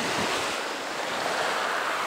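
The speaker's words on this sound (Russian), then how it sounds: "Волна, волна, волна." Sea waves wash and surge around a boat off Yalta, a steady broadband roar of surf with wind buffeting the microphone throughout, loud and close, with no talking.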